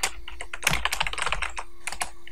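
Rapid clicking keystrokes on a computer keyboard, close and crisp in quick irregular bursts, with no voices over them.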